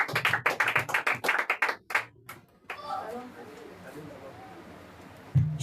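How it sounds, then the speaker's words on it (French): A church congregation claps in a burst of rapid, irregular applause that stops after about two seconds, followed by quiet room murmuring and a faint voice. "Acclamons pour la servante de Dieu, Esther."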